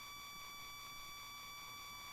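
Steady electronic beeping from the world map screen in an old Final Fantasy RPG, a sustained high-pitched tone pattern repeating faintly and evenly with no voices.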